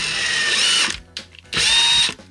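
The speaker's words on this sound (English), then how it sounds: "Just pre-screw in the holes for when I fasten it in" Power drill pre-screwing holes in a shelf during a camper van build, two loud whirring bursts of under a second each with a brief quiet gap and small clicks between them.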